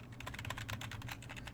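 Rapid clacking of keys on a computer keyboard, a busy, even run of close, fairly soft taps with no voices.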